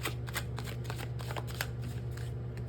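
A traditional Rider-Waite tarot deck being shuffled by hand, with a steady run of crisp papery riffling and slapping card noise, close up and alone without talk.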